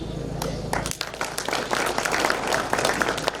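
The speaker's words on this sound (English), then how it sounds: "let's give a better round of applause to Henry" A crowd at a youth event on the International Day of Potato at KALRO Marinda breaks into applause, a dense, rising patter of claps mixed with voices, moderately loud and sustained.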